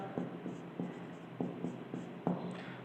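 Hand writing on paper during a maths class, close soft scratching strokes with small taps at irregular intervals, quiet and without talk.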